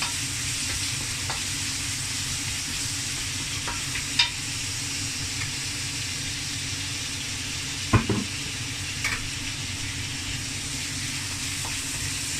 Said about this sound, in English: Always stir it, because otherwise it's gonna burn quick